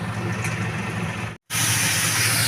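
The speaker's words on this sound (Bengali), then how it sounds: "এবার এটা ভালো করে ভাজা হবে" Ridge gourd and shrimp fry in a pan with a loud, steady hiss and sizzle that cuts out for a moment and then comes back just as strong, close up with no voices.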